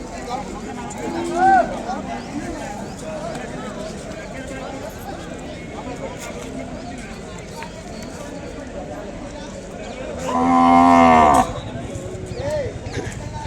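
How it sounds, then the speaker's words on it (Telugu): Heavy Ongole cows at the busy Kodad cattle market let out a brief low moo early on, then one loud, drawn-out bellow later, amid crowd murmur and voices. "ఆవులండి, హెవీ సైజు ఒంగోలు ఆవులు."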